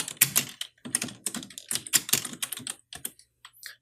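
Crisp, close keystrokes on a computer keyboard in quick irregular bursts with brief gaps, slowing near the end, with no voice.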